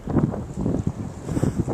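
Blizzard wind buffets the microphone outdoors in Buffalo, a steady, close, rumbling gust with drifting snow and no voices.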